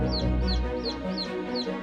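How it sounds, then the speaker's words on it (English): Repeated soft clucking chirps from a young chick, about five short calls in a steady rhythm over a low background hum. "Chick."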